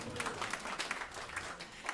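Audience applause at a Pride celebration concert event, a continuous wash of many people clapping heard from a room-like distance, even and sustained for the short stretch without talk on top.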